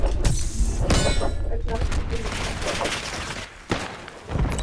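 A Semtex grenade blast and gunfire in Black Ops 6, a string of loud crackling bangs and thuds over busy game noise, with a sharp burst near the end.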